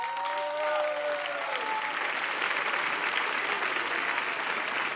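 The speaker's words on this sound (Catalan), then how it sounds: "Ara aplaudiu." Loud, continuous crowd applause at the festa major proclamation in Sant Feliu de Guíxols, steady throughout, with a brief tonal sound over the first second.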